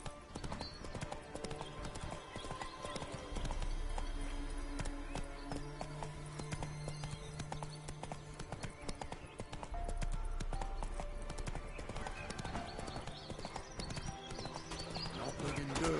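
Roach the horse gallops in The Witcher 3, hooves clip-clopping in a steady rapid rhythm throughout, mixed with game music and ambient effects, with a few brief low tones.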